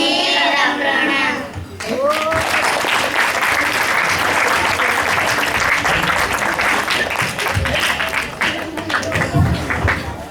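An audience at a first-grade school assembly applauds the children, with a brief voice at the start giving way to sustained, dense clapping from many hands that lasts to the end.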